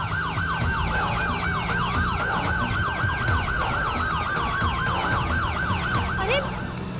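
Police car siren wailing behind a moving car, a rapid rising-falling yelp repeating steadily over road and engine noise, loud and continuous, with faint voices in the background.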